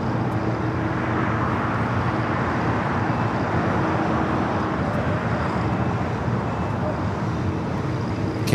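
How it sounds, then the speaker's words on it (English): An airliner at LAX bound for Tokyo Narita taxiing on the ground, a steady deep engine rumble and broad roar heard from a distance, constant and unbroken throughout. "the flight heading back to Tokyo Narita, starting as taxi, will make a left-hand turn on the Bravo"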